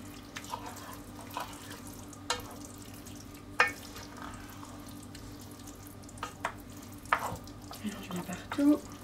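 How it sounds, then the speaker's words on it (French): Turkey risotto being stirred in a pan, with soft scraping and wet clicking spoon strokes at irregular intervals, close and fairly quiet against a low steady background hum. "Mélange bien partout."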